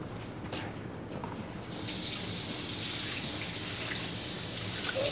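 Liquid pours and splashes steadily into a container of catfish bait, becoming louder and fuller partway through, with no talking.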